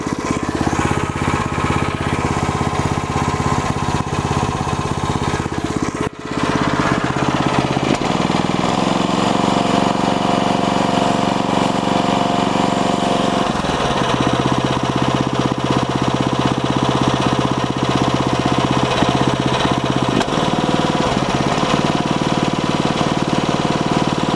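Small engine of a tracked motorized wheelbarrow running after being tipped over, still smoking and burning oil from the exhaust, with a loud, steady, rough idle throughout and a brief dip before it settles into a harsher chugging tone.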